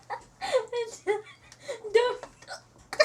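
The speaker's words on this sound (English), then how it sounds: "My hiccups hurt." A person hiccups several times in quick succession, the sharp vocal catches loud and close, mixed with breathy voice and faint laughter-like sounds.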